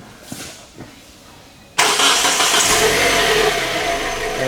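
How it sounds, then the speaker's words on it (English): Engine starts with a quick crank, then settles into a loud, steady idle close by; faint handling noises come before it. "So I'm gonna start the car and let's see what signals we get."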